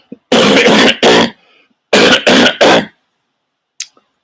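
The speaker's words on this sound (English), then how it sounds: "Sorry, I'm coughing." Two bursts of coughing, each a quick cluster of three harsh hacks close to the mic, separated by a short pause, followed by a faint soft sound.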